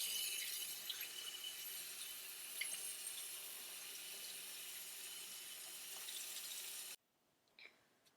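Dyed fabric, a pair of Spanx, rinsed under a running tap into a sink, a steady close rush of water that cuts off sharply, followed by a faint drip and a small splash in the quiet.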